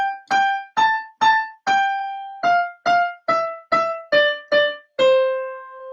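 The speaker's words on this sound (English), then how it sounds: "So if you were playing a melody by itself, it would sound like this." A single piano melody line with no chords, about ten clear separate notes at a moderate pace, each with a sharp attack and short decay, ending on a longer held note, played alone with no voice.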